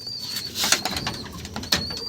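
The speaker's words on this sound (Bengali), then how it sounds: "অনেক পায়রা আছে" High-flying Murshidabadi pigeons and their chicks cooing softly nearby, with bursts of wing flapping and a faint high tone running through the background.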